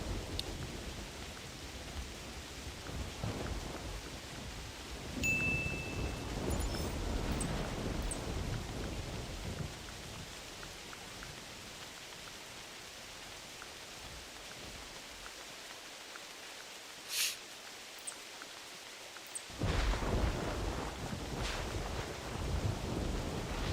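Steady rain falls outdoors in a hunting game's woodland, a broad continuous hiss with a low rumbling undertone that briefly thins before surging again, and no talking.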